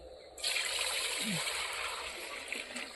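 Fresh date palm sap poured from a container, starting suddenly as a steady close splashing trickle of liquid that carries on to the end, with faint voices in the background.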